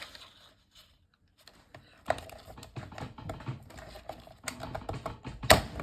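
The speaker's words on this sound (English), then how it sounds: "take some strips of paper, grab my punches" Metal paper punches cut decorative borders along strips of paper from an old 12x12 patterned pad, giving a run of sharp clicking and crunching presses at close range, uneven in rhythm, with a brief quiet stretch before the punching starts.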